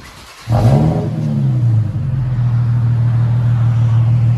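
Engine noise heard from inside an Infiniti G37 with a 3.7L V6 and modified exhaust: one muffled rev that rises and falls, then a steady low drone of idling.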